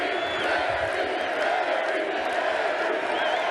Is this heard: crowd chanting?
yes